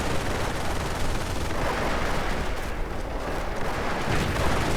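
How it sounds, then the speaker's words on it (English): Mortar rounds landing in a World War II strategy game on the Eastern Front, a dense, continuous roar of blasts and gunfire that stays loud throughout. "Mortar rounds falling"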